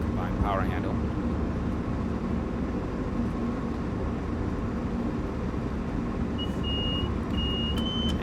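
Steady low rumble and drone of an Amtrak electric train under dynamic braking in Train Sim World 4, a continuous loud hum with faint cab alert tones near the end.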